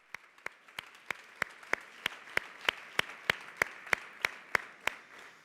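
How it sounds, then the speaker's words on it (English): Steady, rhythmic audience clapping, a row of sharp evenly spaced claps over a soft wash of other hands, building slightly in the middle and continuing without voices. "a big round of applause for them and for making things happen."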